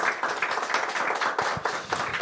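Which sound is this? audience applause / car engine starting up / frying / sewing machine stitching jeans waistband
audience applause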